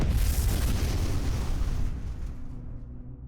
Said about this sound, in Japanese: 最初の爆発地点から190メートル離れた場所で2回目の爆発が発生しました。